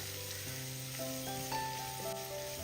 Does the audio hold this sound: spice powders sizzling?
yes